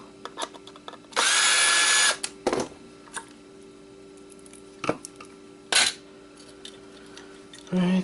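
Power drill unscrewing parts in short bursts: one long whirring run of about a second, then several brief zips and clicks spaced apart, close and loud against a quiet room.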